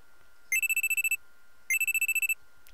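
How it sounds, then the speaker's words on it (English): A phone alarm in the visual novel Steins;Gate rings in two bursts of rapid, evenly pulsed electronic tones, loud and clear over near silence. "I'm sleeping on the couch when a loud alarm rings in my ears."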